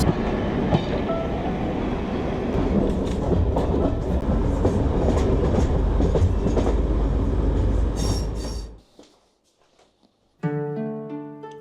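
A train rumbles past loudly in North Wales with rhythmic clattering wheels and brief squeals, then cuts off to near silence before a musical tone sequence plays.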